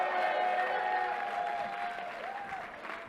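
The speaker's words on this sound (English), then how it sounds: "Give her a round of applause." An audience applauds Governor Kathy Hochul at a public event, with steady, dense clapping that carries through the whole moment and a voice faintly audible over it.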